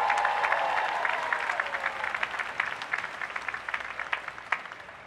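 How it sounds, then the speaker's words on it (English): At a university graduation, the audience applauds the faculty with a dense crowd of clapping that slowly thins to scattered, distinct claps. "Please join me in giving them a huge round of applause."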